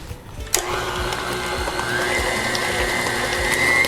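An electric mixer beating strawberry buttercream, a close steady mechanical whir with a rattling, gear-like texture and a rising motor whine, starting with a sharp knock.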